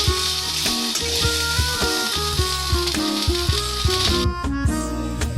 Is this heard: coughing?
no